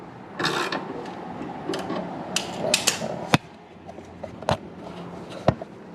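A Can-Am Spyder F3T being lowered on a jack gives off a run of mechanical ratcheting and creaking in a workshop, with a few sharper clicks and clunks over a steady low rumble and no talk.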